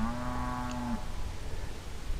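A single cow gives one drawn-out low moo, about a second long, followed by quiet outdoor background.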